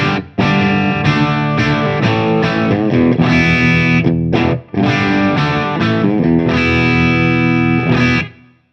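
An electric guitar's slightly broken-up clean tone through a Marshall DSL 100H amp with a Wampler Tumnus Deluxe pedal rings out in loud, sustained strummed chords, with two brief gaps between phrases.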